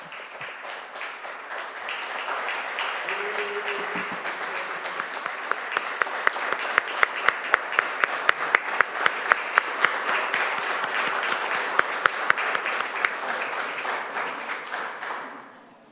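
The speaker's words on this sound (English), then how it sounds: "I think we should give Councilor Allen a round of applause again, please" Sustained applause from a city council meeting audience honoring a departing councilor, building after a couple of seconds into dense, steady clapping with sharper individual claps standing out, then stopping abruptly at the end.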